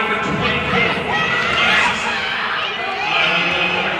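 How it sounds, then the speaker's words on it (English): Crowd cheering and chattering at a girls' varsity ice hockey game, a loud continuous roar filling the rink with speech mixed in. "Crowd's going wild."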